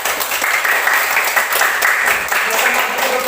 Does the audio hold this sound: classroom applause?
yes